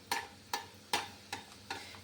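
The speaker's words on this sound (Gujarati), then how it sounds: "એવી જ રીતે આપણે બધી પૂરી તળી લેશું" Puris fry in a shallow amount of oil, with a faint sizzle underneath and five evenly spaced scraping or tapping strokes from a spatula, quiet and close.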